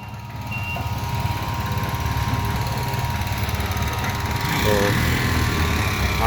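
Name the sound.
3 kW electric motor running, 1500 rpm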